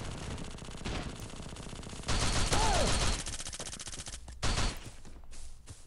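A Lewis gun firing in the video game Bullet Force, rapid bursts of automatic gunfire with louder volleys in the middle and near the end.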